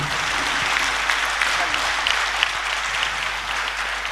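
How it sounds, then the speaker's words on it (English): Seminar audience on thought transformation in Hyderabad gives steady, continuous applause for introduced guests, with a dense, even clapping texture and faint chatter underneath. "Kindly clap for all of them actually."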